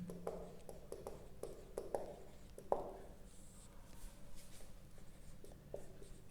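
A pen or chalk writes out a math definition, with close scratchy strokes and small taps in short bursts, the marks coming quicker early on and thinning out toward the end.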